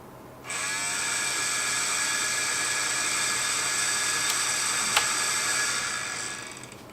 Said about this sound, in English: let me show you the noise that the drive makes when I try to insert a disk and have it read the disk